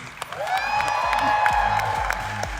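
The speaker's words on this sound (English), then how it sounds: "Bigger cheer. Bigger cheer," Audience at a vote-of-thanks event cheering and clapping, a loud sustained crowd roar with whoops and scattered claps over a few seconds.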